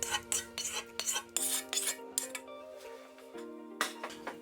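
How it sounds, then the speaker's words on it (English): Turnip cake filling is mixed in a bowl, with a utensil scraping and clinking against the sides in uneven strokes, the tapping and rubbing coming in short bursts separated by brief pauses, no voices. "And mix everything up well."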